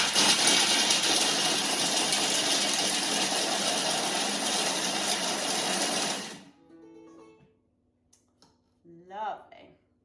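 A Thermomix food processor chops granola ingredients at speed 5, a loud steady whirring roar for about six seconds that cuts off abruptly, followed by quiet handling sounds and a brief voice.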